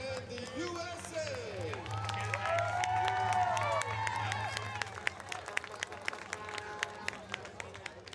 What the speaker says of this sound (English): one more round of applause for Bermuda and the USA.